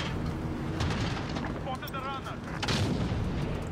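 Gunship firing in Call of Duty Modern Warfare, heavy booming artillery-like blasts rolling continuously under game noise, with a brief chirping tone in the middle.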